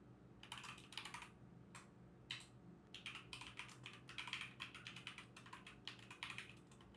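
Typing on a computer keyboard while entering a database statement, with quick, fairly soft key clicks in bursts and short pauses over a low background hum.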